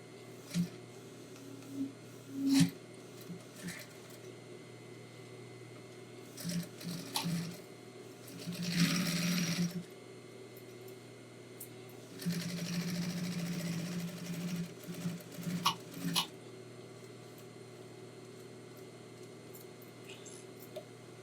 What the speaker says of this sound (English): what you want to do is sew all the way around the edge